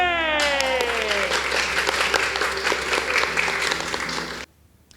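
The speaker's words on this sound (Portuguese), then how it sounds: "cadê a salva de palmas, gente?" A crowd applauds in a dense, steady clatter of clapping after a sung note fades, then it cuts off abruptly to near silence.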